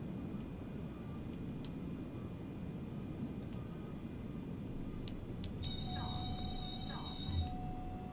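A Pilatus Porter aircraft in Microsoft Flight Simulator 2020 comes in to land at a high-altitude runway, its engine a steady, fairly quiet drone with a few sharp high tones and a warning-like whine near the end.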